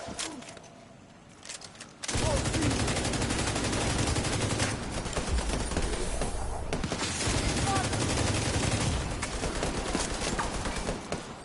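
Sustained enemy gunfire in The Division 2, a dense fusillade of rapid automatic shots that bursts in loud after a quieter opening and keeps hammering continuously to the end.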